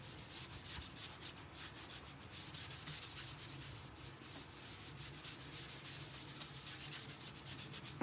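Soft, continuous rubbing of wax across a sheet of ChalkSuede paper, a quiet, even scratchy friction with rhythmic back-and-forth strokes and no talk.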